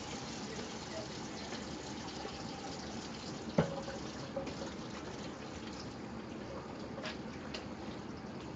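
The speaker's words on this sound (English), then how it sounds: "Wash my hands real quick." Tap water runs steadily into a kitchen sink while hands are washed before cooking dinner, a constant close gush with a brief clunk partway through.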